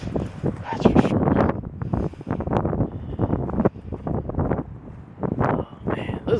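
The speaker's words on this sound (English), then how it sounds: "Getting quite windy out here." Strong wind gusting through the dwarf pine barrens of Long Island, a loud, steady roar buffeting close on the microphone, with someone talking over it.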